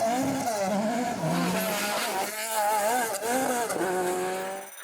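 Toyota Corolla two-wheel-drive tarmac rally car at an Irish national championship rally, engine revving hard with wavering pitch through lurid slides, loud and close, with faint tyre squeal.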